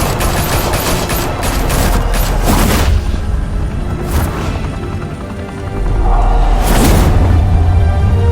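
Heavy gunfire erupts in Batman: The Telltale Series as a volley of shots and booming blasts rips through a dense, loud battle mix, with sustained rattling fire and a second burst near the end.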